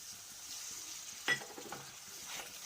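Spiced water is poured into a pan of chicken masala that is frying with turmeric, so a quiet steady sizzle jumps into a sharp hiss burst and then settles into a softer bubbling sizzle.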